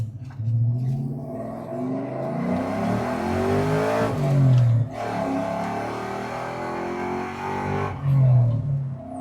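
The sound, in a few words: Mustang Cobra engine revving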